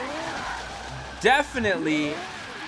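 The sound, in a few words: Turbo Lexus LFA drifting, tires skidding, in Forza Horizon 3 video game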